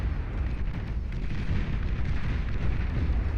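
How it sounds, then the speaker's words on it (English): Heavy lasers and Gauss cannons blast away at boats in the strategy game Beyond All Reason, a dense, continuous roar of low rumbling booms and crackling impacts with no break and no voices. "The Despots firing their heavy lasers and their Gauss cannons and all the rest of it and blasting down these boats"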